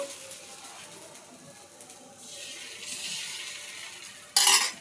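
Dosa topped with chopped onions sizzling on a pan, a soft steady hiss that swells in the second half and ends in a brief sharp burst of frying noise.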